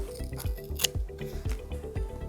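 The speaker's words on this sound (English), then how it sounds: "And then you can just fold that up and cut off your excess again." Scissors cutting off excess duct tape while making a locker organizer, with repeated close snips and a crunchy slicing texture over a steady low hum.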